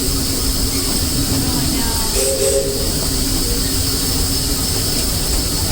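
The Disneyland Railroad steam train rolls along its rails with a continuous loud rumble and hiss, a brief squeal rising partway through, with a voice speaking over it.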